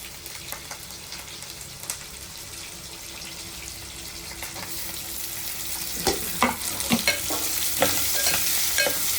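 Onions fry and get stirred in a pan with a steady hiss, with scraping strokes and tapping that grow busier and louder in the second half. No one speaks.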